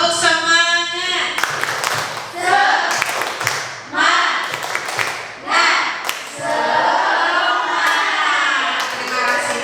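A group of teachers claps together in bursts of patterned rhythm, loud and close, with voices shouting and chanting between the claps.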